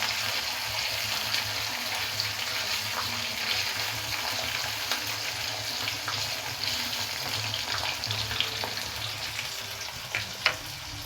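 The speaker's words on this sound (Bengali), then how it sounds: "আলুটা আমি একটু ভেজে নেব।" Boiled potato pieces fry in a pan, a soft continuous sizzle with occasional crackles and light stirring clicks, heard close and steady with no talk.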